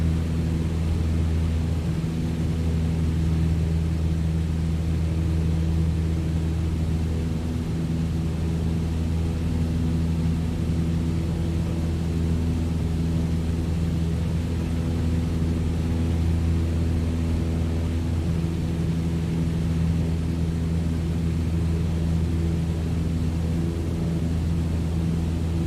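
Aircraft engine drone in Microsoft Flight Simulator 2020, a constant loud steady hum with low rumble and broadband hiss, unchanging throughout with no voices.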